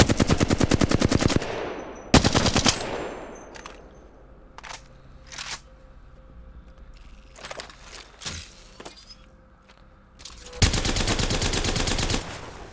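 Long, loud bursts of rapid automatic gunfire fired at targets in Apex Legends open and close the stretch, with scattered single shots, reload clicks and movement sounds between them and no talking.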